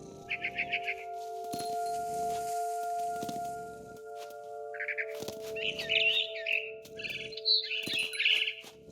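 Bright bird chirps and tweets come in short bursts in the video game What Remains of Edith Finch, mixed with steady tones and soft thuds of game sound, fairly close and clear.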